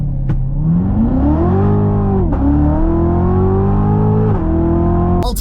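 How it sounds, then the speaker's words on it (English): A Chevrolet C7 Corvette Z06 launches hard from a standstill, its engine roaring loudly with rising pitch through each gear, brief dips at the shifts around two and four and a half seconds, then climbing again. "0 to 60 test in the C7 Z06."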